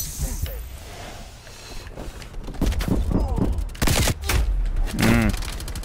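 Rifle fire in the shooter game Black Ops Cold War, with several loud cracks and bursts of gameplay noise under a player talking.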